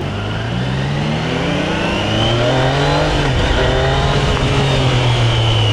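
A Triumph Trident 660 motorcycle in sport mode revs hard, its engine note climbing and holding in a loud, steady roar as the bike pulls.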